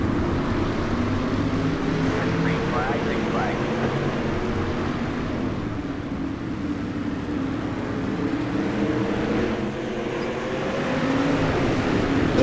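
Nine modified race cars roar off at the start of a heat race, a dense, continuous engine drone that rises and falls slightly as the pack accelerates, with no voices.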